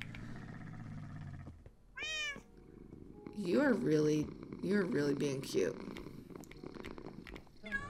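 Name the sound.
cat meowing and purring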